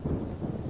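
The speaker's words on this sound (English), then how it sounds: "Yeah, fuck you, thunder." Low rumbling thunder in the survival video game 7 Days To Die, a steady muffled roll with rain texture, brief and fairly quiet, with no voices.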